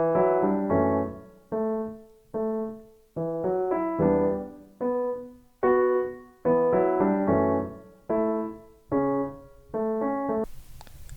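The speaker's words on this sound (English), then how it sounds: "I made an arpeggio with the two pianos, and the arpeggio sounds like this" Two pianos play an arpeggiated chord progression for a hip hop soul sample, the notes plucked in short, evenly spaced rippling bursts with brief gaps between phrases, clean and close with nothing else underneath.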